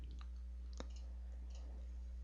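Computer mouse clicks at a desk during software setup, a couple of faint sharp clicks over a low steady electrical hum, with no speech.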